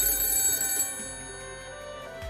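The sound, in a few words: cell phone ringing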